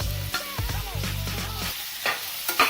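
Potatoes are stirred into a pan of vegetable pulao, a spoon scraping and clattering against the pot over a steady, close sizzle of frying.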